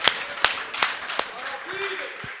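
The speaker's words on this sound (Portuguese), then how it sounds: "Quem pode aplaudir?" A few sharp, separate hand claps land at a steady beat at the start of a church sermon, then trail off while a voice keeps speaking.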